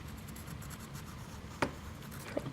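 A pencil scratches lightly and steadily on paper as wheel ridges are drawn, a soft continuous rubbing with a couple of sharper taps near the end.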